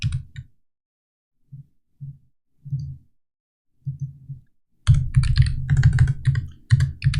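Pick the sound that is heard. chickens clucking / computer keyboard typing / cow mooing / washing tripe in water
computer keyboard typing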